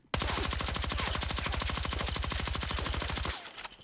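PW5A3 gun in Battlefield 6 fired on full auto, a rapid unbroken string of about forty loud, evenly spaced shots lasting over three seconds before stopping abruptly, with a short echo tail.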